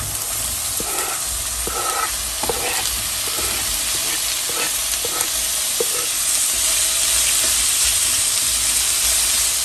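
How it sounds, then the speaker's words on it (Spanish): Sausages and half-moon onion slices frying in a pan, a constant close sizzle with occasional soft scrapes and stirring taps over the steady hiss. "Mientras se fríen las salchichas"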